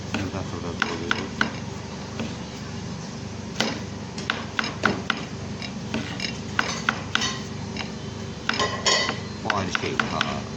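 Mushrooms being finely chopped with a knife on a board for a fried mushroom dish, heard as quick, irregular knocks and clinks of the blade close by, with occasional louder strikes and kitchen clatter.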